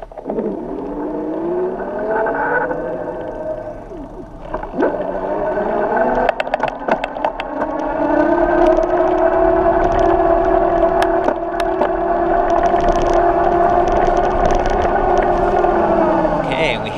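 A steady electric bike motor whine, on an Easy Motion Evo Snow 29" under highest pedal assist, rises in pitch, then holds a loud, even drone with occasional clicks and rattles.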